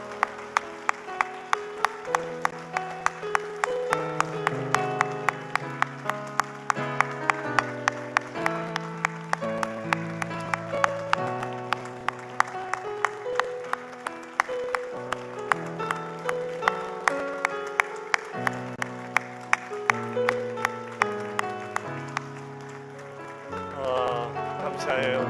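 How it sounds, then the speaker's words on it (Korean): Church congregation at a Korean evening worship service clapping in steady rhythm for a long stretch while music plays, the beats regular and moderately loud, with voices faintly underneath. "들어갈 때까지 박수로 계속 축복해 주세요."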